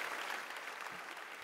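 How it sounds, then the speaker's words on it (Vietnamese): A round of applause from a studio audience at a televised celebrity dance competition, a steady wash of clapping that fills the short stretch without pause. "Một tràng vỗ tay."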